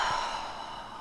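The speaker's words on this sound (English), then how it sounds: "So take a deep breath in" A person takes a single deep, slow breath, a soft close airy rush of air lasting about a second with no speech.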